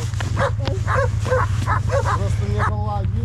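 A dog gives a rapid series of short, high yips and barks, close by, over a steady low engine hum.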